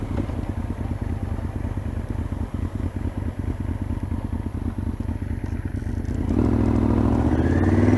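Yamaha VMAX 1200 motorcycle on a ride, its big engine putting out a steady, rapid low exhaust pulse, then swelling louder as the rider opens the throttle near the end, with wind rush.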